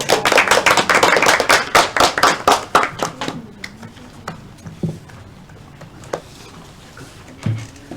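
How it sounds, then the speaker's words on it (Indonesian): Applause in a classroom for a presenting student group: a dense burst of many hands clapping close by for about three seconds, then tapering into a few scattered claps and light movement. "berikan tepuk tangan untuk kelompok"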